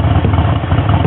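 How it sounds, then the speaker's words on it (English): A 1340cc, 80 cubic inch Harley-Davidson Evolution V-twin engine runs at a loud, steady idle with a deep, even rumble and some mechanical clatter, heard alone throughout. "80 cubic inch Harley-Davidson Evolution engine."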